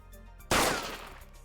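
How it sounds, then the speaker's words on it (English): A single sharp, loud gunshot sound effect from an airstrike in a game, bursting abruptly after a quiet stretch and decaying into a rumbling tail. "the gunshot sound kind of scared me"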